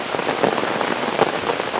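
Steady rain falling outdoors on a suburban walk, a dense close patter of drops hitting surfaces, continuous and fairly loud with no talking.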